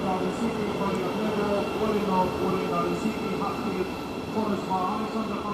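A stopping passenger train from Cambridge to King's Cross rumbles past at Stevenage station on the East Coast Main Line, a continuous rolling drone with rail noise at steady volume, voices murmuring faintly underneath.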